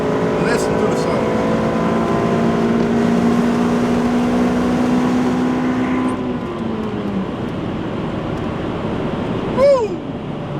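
A 2008 Honda Civic Type R FN2 exhaust pulls hard, its loud engine tone rising steadily for several seconds before easing off into a lower rumble, with a short squeak near the end.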